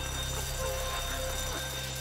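A bank alarm in Grand Theft Auto V rings continuously, a steady electronic tone held at even volume for the whole stretch under a low background hum.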